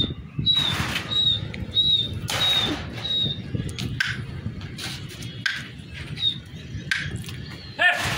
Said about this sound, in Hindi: भाई ने कबूतर खोले हुए हैं, अभी उड़ाएंगे, मैं दिखाऊंगा आपको इनकी उड़ान।